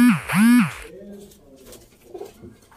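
Ferozpuri pigeons give two loud, close rolling coos in the opening second, followed by softer, fainter cooing and rustling in the background.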